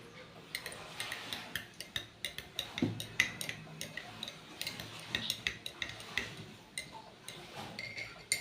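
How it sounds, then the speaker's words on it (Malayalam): A spoon stirs chia seeds into warm water, making faint, quick clinks and taps against the container in an irregular rhythm. "ചെറിയ ചൂടുവെള്ളം ഒരു മുക്കാൽ ഭാഗം ഒഴിച്ചിട്ട് ഒന്ന് നന്നായിട്ടൊന്ന് മിക്സ് ചെയ്ത് കൊടുക്കണം"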